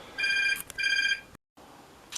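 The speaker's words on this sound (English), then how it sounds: "the phone's ringing" A telephone rings with two bright electronic trill bursts close by in a quiet room, followed by a short silence; no talking.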